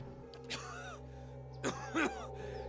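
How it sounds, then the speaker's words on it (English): A man coughs and clears his throat in a few rough, raspy bursts, close and moderately loud over a low steady hum, in the video game Pillars of Eternity. "He shudders with a cough."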